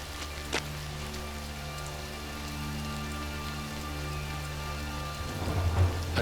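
Steady rain falling on surfaces with a low rumble of thunder, faint and constant, a sharp crack near the start and a swell of rolling thunder toward the end.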